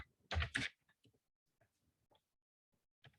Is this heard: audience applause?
no